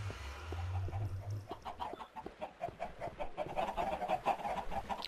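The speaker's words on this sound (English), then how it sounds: "Our chicken farm, our conventional farm, and our tree farm" Chickens clucking on a chicken farm in the Minecraft video game, a continuous dense patter of soft clucks, fairly faint and alone, with a low hum at the start.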